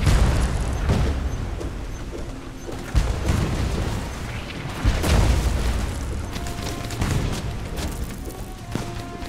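Cannon fire in the pirate ship game Blazing Sails: a string of heavy booms and bursts over a dense rumbling battle background, with a few sharper blasts standing out.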